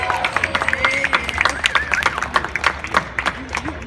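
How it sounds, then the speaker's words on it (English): Crowd applause and scattered cheering at an outdoor Disability Pride parade, loud and close, with clapping bursts, whistles and voices chattering over it. "Let's give everybody a round of applause."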